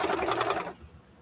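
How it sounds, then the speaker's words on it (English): A sewing machine stitching fabric in a quilting setting, running in a quick, even rhythmic whir for under a second before stopping and leaving faint room noise. "You need to sew slower."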